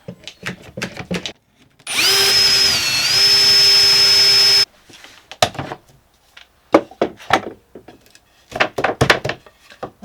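A power drill bores an 18 mm hole in a clamped timber peg rail, a loud steady whine of about three seconds, framed by scattered close knocks and handling sounds of wood before and after.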